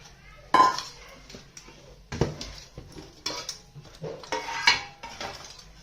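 A spoon clinks and scrapes against a bowl as gram flour goes in, several sharp, close taps and clatters spaced across a few seconds.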